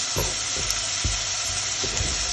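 Onion, garlic and chili frying in sesame oil for a fenugreek curry, a loud dense sizzle throughout with a few soft thumps of the pan or spoon, close up and without speech.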